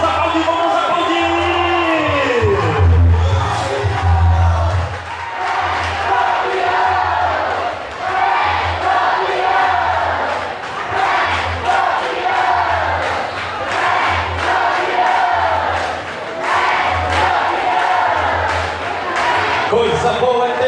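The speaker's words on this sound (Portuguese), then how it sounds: "Vamos aplaudir, vamos aplaudir, vamos aplaudir!" A loud festival crowd at a São João quadrilha competition in Aroeiras cheers and claps, with yells and whoops rising in waves over a steady thumping beat, some voices shouting above the din throughout.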